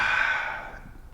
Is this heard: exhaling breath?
yes